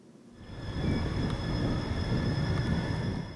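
A Munich tram rolls along its rails, a low rumbling swell that rises within half a second and holds steady, with faint high tonal whine above and no voices.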